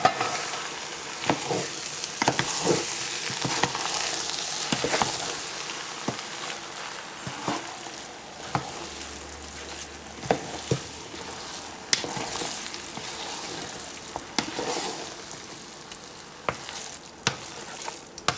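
Chicken biryani being stirred and mixed in a pot, with a soft sizzle underneath and irregular scraping knocks of a spoon against the pot, close and alone without talk.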